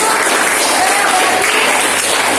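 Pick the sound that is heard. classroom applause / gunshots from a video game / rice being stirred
classroom applause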